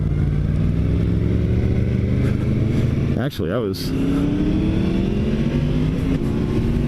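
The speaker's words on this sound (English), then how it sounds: "let's see what this motor does with a second gear startup" A 2017 Yamaha FZ-10 motorcycle pulls away in second gear, its engine note climbing in a steady rising whine, dipping briefly at a shift before pulling again; a rider speaks briefly over the engine noise.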